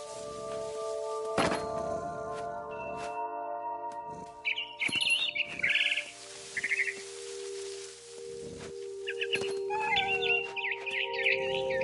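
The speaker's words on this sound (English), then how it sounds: "It was a barn swallow going back to her nest." A barn swallow chirps in the video game What Remains of Edith Finch, scattered short high tweets and trills over soft sustained musical tones, punctuated by a few dull thunks.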